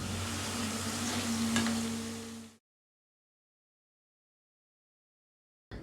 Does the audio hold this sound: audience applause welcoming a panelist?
no